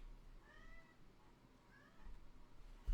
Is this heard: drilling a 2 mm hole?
no